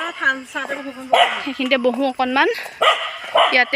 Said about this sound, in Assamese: কুকুৰে ভুকিছে